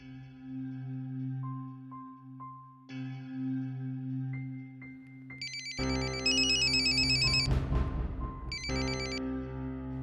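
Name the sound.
phone ringtone ringing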